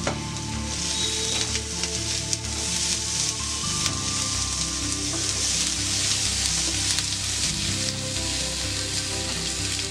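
Onions fry in a pan at a roadside-style chicken masala cookout, with a loud, continuous sizzle and occasional stirring scrapes close by, and no talk.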